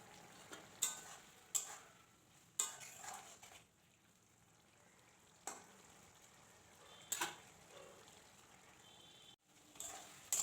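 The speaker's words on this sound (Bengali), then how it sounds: "আমি এখানে আলুটা খুব ভালো করে কষিয়ে নেব।" Potatoes being stirred and fried in a pan while cooking soyabean muitha, with faint continuous sizzling and intermittent sharp scrapes and clinks of a spatula against the pan at irregular intervals.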